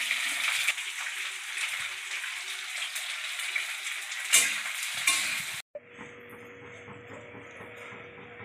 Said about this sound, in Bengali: পটল কটা একটু ভেজে নিই